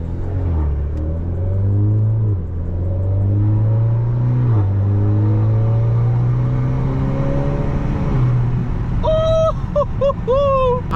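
A car engine revs up through rising, stepping gear pulls during a casual cruise, a steady loud drone that climbs and drops with shifts while someone talks over it near the end.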